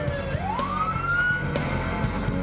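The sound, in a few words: emergency vehicle siren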